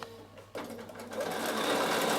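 A sewing machine stitches binding onto a fabric travel pouch: a quiet pause, then the motor starts abruptly and runs in a fast, steady, close whirring clatter that grows slightly louder.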